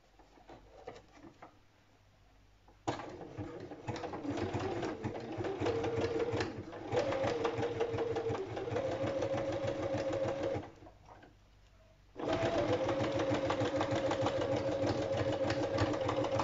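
Sewing machine stitching fabric pieces laid on a cardboard backing plate, running in two long steady bursts of mechanical chatter with a short pause between, close and fairly loud, with no talk.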